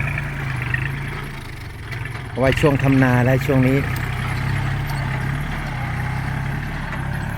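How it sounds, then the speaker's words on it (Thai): A tractor and an excavator work in a rice field, their engines giving a steady low idling rumble throughout while someone speaks briefly over the noise. "ช่วงนี้เราจะดู แมคโครกับสลับไปกับ รถไถครับ"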